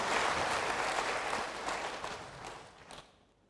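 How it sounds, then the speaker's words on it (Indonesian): A church congregation claps together in dense, steady applause that gradually thins and fades toward the end. "berikan tepuk tangan bagi Tuhan."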